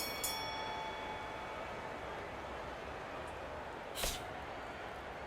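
A boxing ring bell signals the start of round one at a late-night professional fight, one short bright ring cutting through a steady crowd roar.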